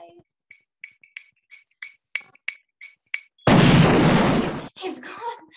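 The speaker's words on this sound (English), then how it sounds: "The bomb came out of nowhere." A stage explosion effect in a live Addams Family musical performance bursts as a loud sustained blast after a series of short, sharp clicks, followed by trailing crowd or voice noise.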